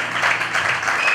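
A church congregation at an evening service bursts into applause to acclaim the Lord, a dense, steady wash of many hands clapping close and loud throughout, with faint voices mixed in.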